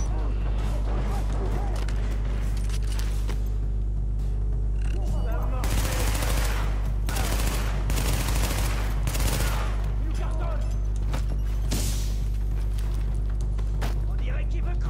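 Held-trigger gunfire from a weapon in The Division, several loud rapid bursts over a steady low hum with someone talking throughout.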